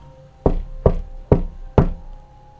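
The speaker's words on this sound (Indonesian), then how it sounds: "ada suara ketukan pintu." Four firm knocks on a door, evenly spaced about half a second apart, close and loud against a quiet background.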